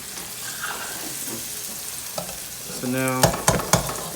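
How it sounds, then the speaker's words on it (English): Garlic, peppers and onions sauté in a pan with a low, continuous sizzle. A few sharp utensil clinks and scrapes come near the end, and a voice speaks briefly. "we're going to saute this for probably about 1 to 2 minutes, just till the onions get translucent"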